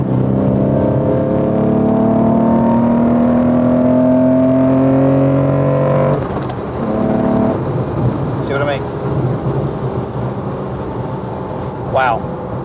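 A Porsche 911 restomod's engine revs hard and steadily for several seconds, its tone climbing, then drops away as someone talks over the quieter idle and passing road sounds.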